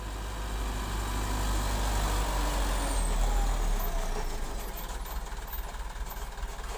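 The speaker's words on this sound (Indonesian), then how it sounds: "truk Boys yang lewat dari Jalan Baru Parapat" A truck driving past on the new road at Parapat, a heavy engine rumble that swells and then eases as it passes, loud and continuous with a broad roar of road noise.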